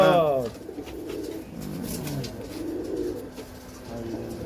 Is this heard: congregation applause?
no